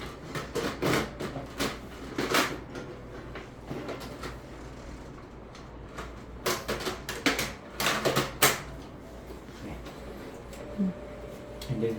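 A printer runs in a medical office, making scattered mechanical clacks and whirs that come in bursts with quieter gaps. Faint room noise sits underneath.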